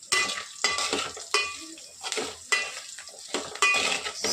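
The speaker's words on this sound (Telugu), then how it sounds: "ఇది కొంచెం ఫ్రై అవనిద్దాం" Curry frying in a pan while being stirred, with bursts of sizzling and the scrape and clatter of a utensil against the pan at an uneven rhythm. No one speaks.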